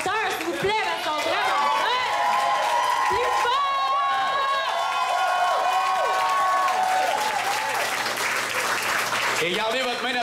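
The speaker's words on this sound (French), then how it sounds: "Une main d'applaudissement pour le DJ et l'animateur," Sustained loud applause from a wedding crowd at Mont Tremblant for the DJ and host, mixed with cheers and shouting voices, continuing without a break.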